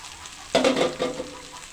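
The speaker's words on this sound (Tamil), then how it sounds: "இப்போ இது எல்லாத்தையும் நல்லா வதக்கிக்கலாம்" Cut potatoes for a Tamil potato poriyal hit a hot pan with a sudden close sizzle, then crackle and fade back to a low frying hiss, with no talking.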